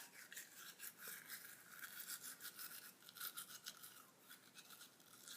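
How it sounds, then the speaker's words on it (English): A toothbrush scrubs teeth up close in rapid, scratchy strokes with a steady back-and-forth rhythm, quiet and alone. "I just make sure my toothbrush touches like every area I get in the back"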